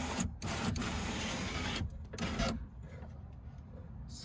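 A car's electric window motor whirs steadily as the glass travels, then cuts off abruptly, with a short second run and quiet cabin noise afterward.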